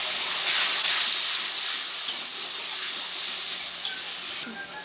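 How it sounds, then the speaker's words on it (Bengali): Grated tomato hitting hot oil in a pan already darkened from frying pointed gourd, with turmeric and salt: a steady, loud, close sizzle and hiss that holds evenly throughout, with faint occasional crackles. "দিয়ে দিচ্ছি গ্রেট করে রাখা টমেটো"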